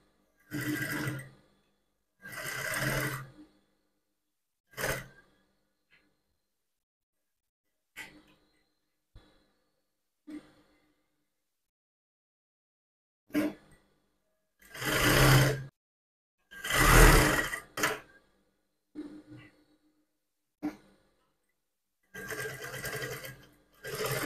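Domestic sewing machine stitching the waistband of a contour skirt, running in repeated bursts of a few seconds each with short pauses between, close and fairly loud, with no talking.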